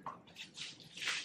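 A plaster bandage strip is dipped and swished in a bowl of water, giving soft wet sloshing and squishing over about a second, close and fairly quiet, with no talk.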